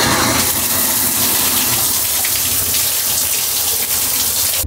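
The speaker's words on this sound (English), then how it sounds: "I'm gonna have a shower and hopefully be done before we set sail." A shower on a ferry runs in a loud, steady rush of water from start to finish, close by and with no voices.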